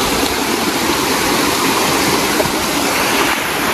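Erakampalem waterfall near Annavaram, India, roaring steadily with dense, continuous rushing water at close range, loud and unbroken throughout with no voices.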